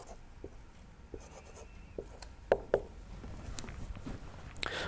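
Pen writing on paper during a maths worked example on converting speed units, faint scratchy strokes with a couple of sharper taps, close and quiet with no talking.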